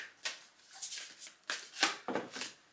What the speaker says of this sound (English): Some cards fell out, but there's too many, so I'll keep shuffling.